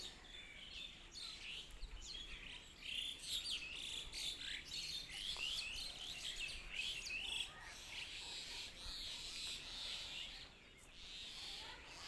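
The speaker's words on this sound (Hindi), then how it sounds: "आप लोग को चिड़ियों की चहचहाट मिल रही होगी देखने के लिए।" Small birds chirp and tweet busily around a rural village, a dense layer of high, quick calls continuing for about twelve seconds over faint background noise.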